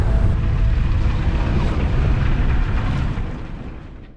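Sailing in Denmark from Samsø to Grenaa, a sailboat motors at 1900 RPM into a 15-knot headwind, with a dense, roaring rush of wind and engine noise that fades slightly at the end.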